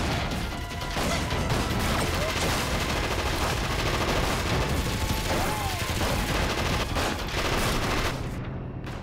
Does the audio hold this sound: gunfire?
yes